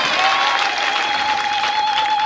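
A congregation at a 2023 thanksgiving church service claps warmly and continuously, a dense, even wash of applause with a faint sustained tone underneath.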